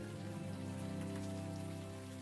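Steady rain falls in the video game Unavowed, a dense, even hiss that runs unbroken for a couple of seconds under a low, sustained tone, with no talk.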